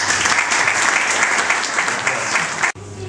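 A hall audience at a sports gala applauds steadily and loudly, a dense sustained clapping that breaks off abruptly near the end, leaving a quieter room tone with a low hum.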